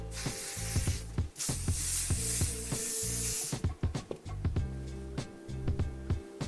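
Aerosol hairspray hisses in a few steady bursts close by, sprayed onto hair, with rustling and soft handling noises between and after the sprays.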